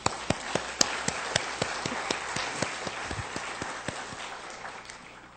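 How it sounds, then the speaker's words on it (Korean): A Salvation Army congregation in Seoul applauds during a Sunday church service: sharp, evenly spaced claps ring out close by over a dense wash of crowd clapping, keeping a steady rhythm before gradually tapering off. "박수 한번 하십시오"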